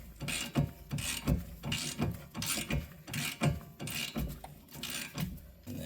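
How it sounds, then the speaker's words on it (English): A wheel stud installer is ratcheted tight on a GR86 hub with ARP 2.5 inch wheel studs, a rhythmic series of gritty metallic clicks and rasping strokes repeating about once per second, close up. "And we're just tightening it down. Until it bottoms out."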